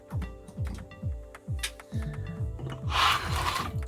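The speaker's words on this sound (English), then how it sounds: "So let's cut the excess off the back and" Repeated rhythmic rasping and sawing strokes as excess board is cut off the back of a PCB prototype, each stroke sliding downward in pitch, close and loud, ending in a harsher buzzing burst.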